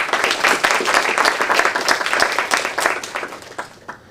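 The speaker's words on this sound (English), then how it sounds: "let's give Professor Henk a round of applause." Audience at a 6G technology summit in Abu Dhabi applauding a professor after his talk, dense close clapping throughout that thins out and fades in the final second.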